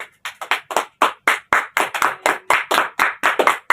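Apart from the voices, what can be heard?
audience applause after group presentations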